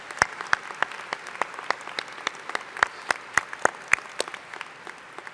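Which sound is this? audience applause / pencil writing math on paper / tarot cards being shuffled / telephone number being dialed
audience applause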